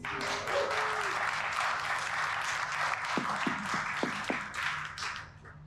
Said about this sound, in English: Can everyone just cheer, please?